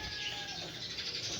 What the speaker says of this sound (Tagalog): Sobrang ingay ng mga ibon dito guys.